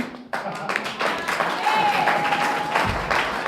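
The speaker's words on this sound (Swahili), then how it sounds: "makofi jamani kwa watu wa Ngojera" A church audience applauds children who have just performed a ngonjera poem. The clapping is sustained and moderately loud and runs under a brief sustained tone and a low rumble near the end.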